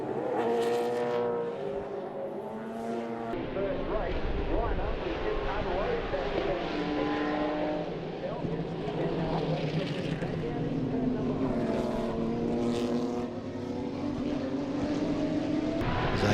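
Sports sedans and sports cars racing side by side at the front of the field at CARCO.com.au Raceway, engines droning and rising in pitch as they pass, with a commentator talking over the track noise.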